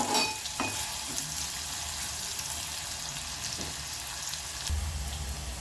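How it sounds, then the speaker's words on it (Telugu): Onions sizzle steadily in a hot pan as they fry toward golden for a capsicum masala curry, a continuous crackling hiss with a few stirring clatters and no voices. "మంచిగా కొంచెం గోల్డెన్ రంగు వచ్చేదాకా మంచిగా ఫ్రై చేసుకోవాలి ఉల్లిపాయలు"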